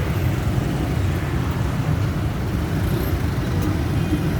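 Steady road traffic in a jam on an alternative route running under an overpass, a continuous dense low rumble of idling and creeping cars and buses, close and even throughout with no voices.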